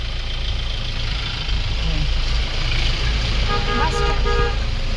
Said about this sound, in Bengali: সামনে যাচ্ছে গাড়িগুলো দেখো